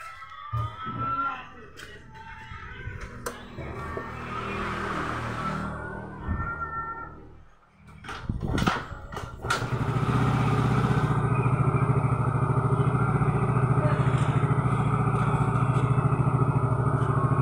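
A Yamaha Soul GT scooter, repaired after sudden stalling and spark plug service, cranks with brief clattering attempts, then catches and settles into a steady, close idle that runs on unbroken to the end.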